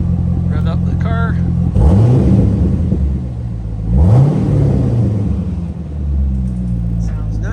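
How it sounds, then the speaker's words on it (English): A 2006 Chevrolet Corvette coupe with the 6.0L V8 and straight exhaust idles with a deep rumble, then revs sharply twice and a third time more gently, each rise and fall loud and close. "I'm gonna go ahead and rev up the car."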